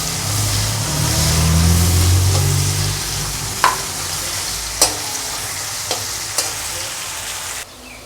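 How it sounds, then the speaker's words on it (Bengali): Chopped onions fry in a pan with a steady, fairly loud sizzle that runs continuously until it stops abruptly near the end, broken by a few sharp taps of a utensil against the pan, heard close with no talking. "পেঁয়াজগুলো খুব ভালো করে লাল করে ভেজে নেব।"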